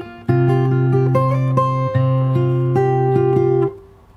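Fingerstyle guitar plays the opening bar of the soft, slap-free post-chorus of a song: plucked notes over a sustained bass, steady and close, with no voices, ending in a short ringing decay.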